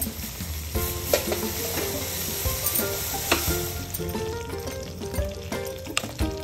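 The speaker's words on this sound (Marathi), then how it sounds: "म्हणजे तुपातच छान परतले जातात ते खमंग" Raisins and cashews fry in hot ghee with semolina on a low-to-medium flame, a steady close sizzle broken by frequent scraping stirs and light clinks of the spoon against the pan.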